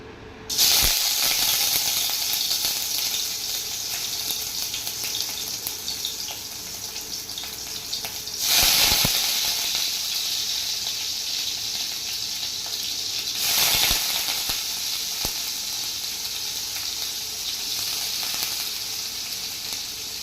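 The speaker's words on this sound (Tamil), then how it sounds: "இந்த கடாயில் எண்ணெய் ஊற்றிருக்கோம்ல, இந்த இதில் வந்து இதை போட்டு நம்ம பொரிச்சு எடுத்துக்கலாம்" Paneer fries in oil in a kadai with a dense, continuous sizzle, close and steady throughout, swelling into brief louder bursts of hiss and crackle a few times.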